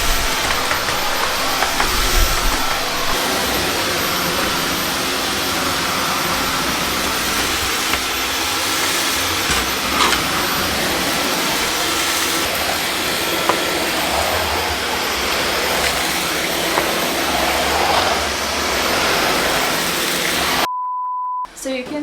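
A Dyson V15 cordless vacuum cleaner, run with the laser cleaner head removed, gives a loud, steady whirring roar that holds constant for about twenty seconds before cutting off abruptly.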